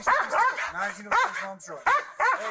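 Dog barking during a tense police search of a garage where a kidnapped girl was found, short yelping barks mixed in under loud shouting voices of officers calling people out.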